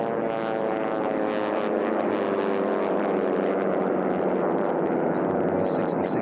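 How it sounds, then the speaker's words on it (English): Racing propeller aircraft in a T6 heat at an air race drone loudly and continuously as they fly past, a thick sustained engine roar with shifting tone throughout. "these three aircraft that are now battling for basically second, third, and fourth position"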